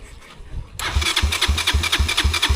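An engine on a trail sputters and catches after a quiet lead-in, then settles into a loud, steady, rhythmic chugging close by, with no voices over it.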